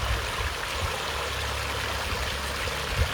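Water flows steadily over the bottom dam, a dense, continuous rushing wash heard close and fairly loud, with no voices over it.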